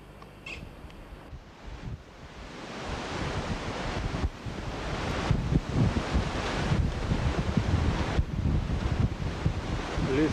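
Strong wind buffets the microphone in the Patagonian mountains, a broad roaring rush that builds steadily in loudness with gusty low rumbles throughout.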